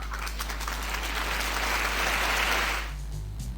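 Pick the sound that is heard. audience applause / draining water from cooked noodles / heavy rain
audience applause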